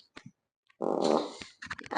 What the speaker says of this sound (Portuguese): Foi a cadeira, tá, gente? Eu não soltei um pum